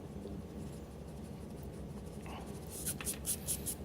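Pencil drawing of a face being erased, a soft continuous scrubbing with a few quick rubbing strokes toward the end, close and quiet, with no talking.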